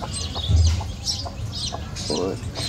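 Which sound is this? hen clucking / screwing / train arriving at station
hen clucking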